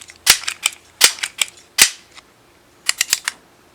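Sharp, dry snaps from a Crosman 1377 .177 pellet pistol. About a dozen close, crisp cracks and clicks come in irregular clusters, with no talking.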